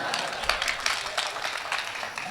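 An audience at a Hindi poetry recital applauding, a dense, even wash of clapping from a crowd lasting a couple of seconds.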